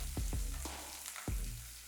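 Two tablespoons of oil sizzle and spit steadily in a kadai with lentils, chopped ginger and slit green chilies, with a few soft thuds and stirring knocks close by.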